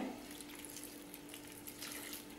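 Water runs steadily into a pressure cooker holding mango pieces, a continuous faint splashing pour with no talk over it.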